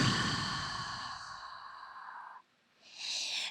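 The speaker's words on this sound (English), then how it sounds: "Breath out." A long, breathy exhale during a yoga workout, held steady for over two seconds before a short pause and a fresh rush of breath, close and soft with no talk.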